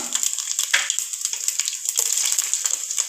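Cumin seeds sizzle steadily in about five spoons of hot oil, a dense, close crackling hiss with small pops that runs through the whole moment with no talking.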